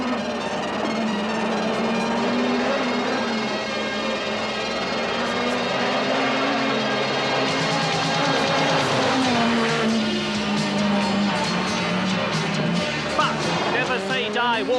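Rally cars at the 1986 Monte Carlo Rally, including Henri Toivonen's, with a steady loud engine drone and shifting revs throughout, a commentator talking over it.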